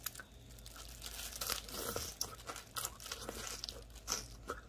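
Crisp crunching and crinkly bites of mild, cool radish-leaf water kimchi, close and repeated in uneven bursts with no talking.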